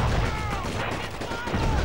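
Enemy gunfire in Call of Duty 2: Big Red One at a bridge in the Dragon's Teeth level, a dense, steady rattle of shots and battlefield noise running through the whole moment with no clear breaks.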